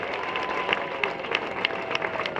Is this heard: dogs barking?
no